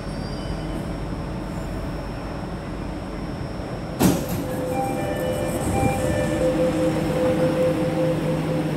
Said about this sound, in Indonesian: sekarang kereta sudah sampai di stasiun Haji Nawi